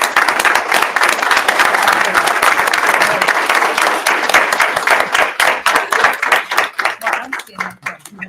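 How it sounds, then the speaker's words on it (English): A room full of people at a school board meeting breaks into a sustained round of applause, dense clapping that thins and tapers toward the end, with talk mixed in. "can we give her a round of applause?"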